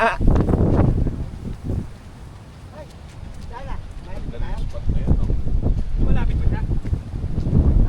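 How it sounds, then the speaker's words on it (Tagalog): Strong wind blasts across a microphone on the mountain top of Daldagon Peak in Camarines Sur, a loud rumbling roar that surges and eases, with voices talking over it and animal bleats in the background. "Malakas yung hangin."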